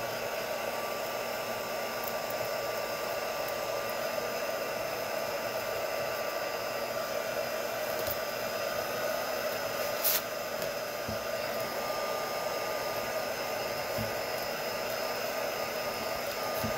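A hair dryer blows steadily on thin craft paint, a constant close whooshing hiss with a faint tonal whine, running unbroken for the whole stretch with only a small bump midway.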